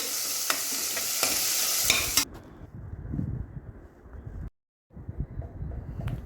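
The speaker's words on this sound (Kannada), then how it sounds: "ಇದು ಟೊಮೆಟೊ ಸ್ವಲ್ಪ ಸಾಫ್ಟ್ ಆಗೋ ಮಟ್ಟ ಫ್ರೈ ಮಾಡಿರಿ" Chopped tomato sizzles and fries in a pan while being stirred for palak rice, a loud hissing bed with scraping stirs, then a quieter sizzle after a brief cut, with no talking.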